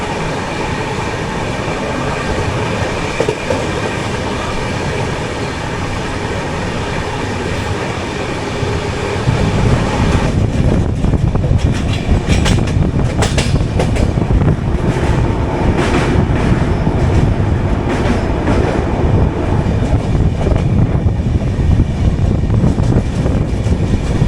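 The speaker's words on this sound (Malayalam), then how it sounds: "16 കോച്ച് വെച്ചുകൊണ്ട് പറക്കുന്നുണ്ട്." The 12077 Jan Shatabdi Express, a 16-coach train, rushes along at speed, heard as a loud, continuous rumble and roar whose clattering rhythm of wheels on the track grows heavier about halfway through.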